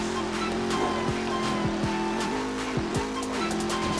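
Race car tires squeal and skid in the Midnight Club 3 DUB Edition Remix video game, screeching over a loud, steady engine drone with repeated gear-shift pitch changes.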